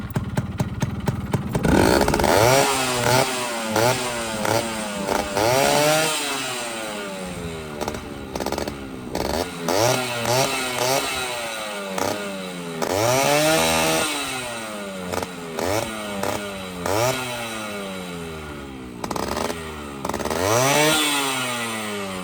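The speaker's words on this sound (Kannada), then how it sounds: "ಗಾಡಿ ಸೌಂಡ್ ಒಂದು ಸತಿ ಕೇಳಿಸ್ಬಿಡ್ತೀನಿ, ನೋಡ್ಕೊಂಬಿಡಿ." A Yamaha RX100 two-stroke motorcycle engine is revved repeatedly near the microphone: a raspy, buzzing crackle rises and falls in quick throttle blips over the full stretch, with no talking.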